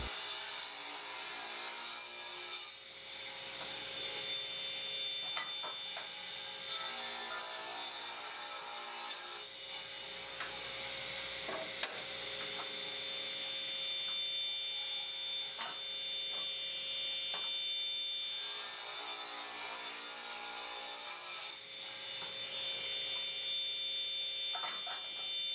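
Pallet boards are cut to final length on a table saw in a woodworking shop, a steady loud whine of the blade with surges as each board is fed through, no talking.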